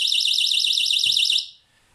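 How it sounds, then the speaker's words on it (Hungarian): A tilt-sensor beehive alarm gives a loud, piercing, rapidly warbling electronic tone close by. It sounds continuously for about a second and a half, then cuts off, leaving a faint background. "Mutatok még egy érzékelőt, ez is csipogni fog."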